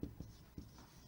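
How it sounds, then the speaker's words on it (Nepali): Chalk or pen writing out a class 7 ratio maths question on a board, heard as a few short scraping strokes, faint and close, with no talk over them. "यहाँ हेर्नुस् क्वेशन लेख्दै छु"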